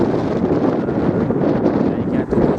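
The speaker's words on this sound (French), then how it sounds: "Oh, tout petit coup de vent là." A brief gust of wind buffeting the microphone outdoors near water, a loud rough rumble that holds steady for a couple of seconds.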